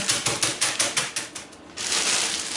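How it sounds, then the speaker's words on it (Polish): A meat mallet pounds cornflakes inside a plastic bag, nine or so quick, close, even knocks followed by a louder, continuous crinkling rustle of the bag. "Przeukładamy do woreczka foliowego i stukamy czymś twardym."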